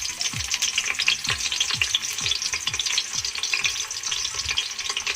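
Shallots sizzle and fry steadily in a hot pan for an Acehnese goat curry, a dense crackling hiss running throughout with occasional low thumps, close and fairly loud with no talking.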